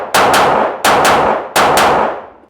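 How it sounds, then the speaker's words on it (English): Three loud, sharp shots from a Glock 45 Gen 5 pistol at a range, spaced roughly evenly with ringing decay after each, no talking. "So I'm gonna do half a mag on the 45 Gen 5."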